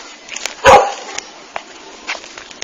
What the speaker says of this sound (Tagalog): Tahulan tayo ng aso.